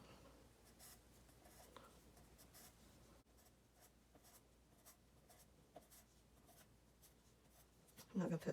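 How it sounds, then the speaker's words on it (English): A graphite pencil scratches and strokes across a card, close and quiet, in a soft steady rhythm of short marks with small pauses, ending in a couple of louder taps. "And all this is a graphite pencil."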